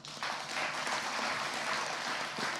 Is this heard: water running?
no